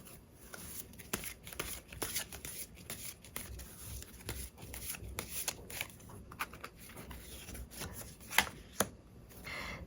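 Tarot cards are shuffled by hand at close range, a steady stream of soft riffling and flicking with several sharper snaps near the end, quiet and alone.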